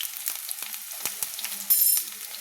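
Long-cut eggplant pieces frying in oil for a Bengali pui shak chochhori, a gentle continuous sizzle broken by several sharp utensil taps and scrapes, close and without speech.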